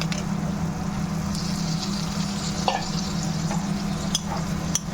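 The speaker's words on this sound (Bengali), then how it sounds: "এবারে আমি ভাজা বেগুন আর আলুটা দিয়ে দেব।" Fried eggplant and potato go into a lightly spiced hilsa curry, which bubbles and sizzles steadily in the pot, with a few light clinks of a spoon against the pan.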